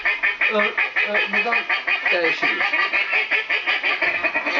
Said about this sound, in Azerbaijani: Ördək səsləri var, məsəl üçün,